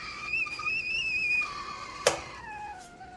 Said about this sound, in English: Oh, the kettle, it already started whistling.